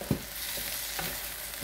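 Fish sauce, sugar and lemongrass sauté in a pan, giving a continuous close sizzle with a few light stirring clinks and scrapes.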